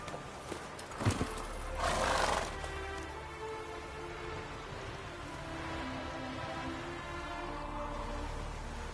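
A horse gallops during a race in the video game The Witcher 3, with rain falling, a brief neigh near the start, and steady hoofbeats and rain noise continuing underneath.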